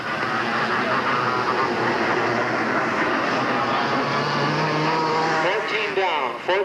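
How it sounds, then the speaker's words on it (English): Race cars roar around the Delta Speedway track at a 1997 race, a dense, loud, continuous engine drone with shifting pitch as cars pass, while an announcer talks over the racing. "The 72 Casey Thane gets it spun around there off of turn number 2"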